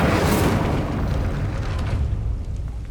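In Hogwarts Legacy, an Incendio fire spell is cast, giving a loud, close, booming whoosh of flame that bursts at once and then rolls off into a fading roar.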